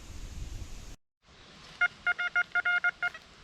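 A short series of about eight clipped electronic beeps from a metal detector giving a coin signal, following a brief dropout, over faint background hiss.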